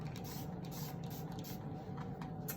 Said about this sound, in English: So I'm gonna show you first with the water bottle. I'm gonna just go in and I'm gonna spray that root area